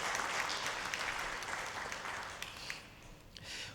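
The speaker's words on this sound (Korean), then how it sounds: "은평 찬양단 위해서 함께 박수로 격려하겠습니다" A church congregation claps together to encourage the worship team after the praise songs, a full, even wash of applause that softens slightly toward the end.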